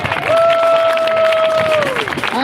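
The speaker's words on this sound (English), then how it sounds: "Let's hear a round of applause." A crowd at a commemorative gathering breaks into applause and cheering, a short burst of clapping with a sustained whistle-like tone riding over it.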